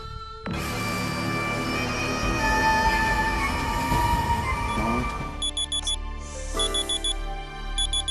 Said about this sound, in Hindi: क्या अलार्म क्यों बज रहा है?